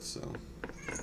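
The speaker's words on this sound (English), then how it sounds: "Excuse my cats in the background, sorry about that" Cats meow faintly in the background while a person talks over them, a couple of short high cries under the voice.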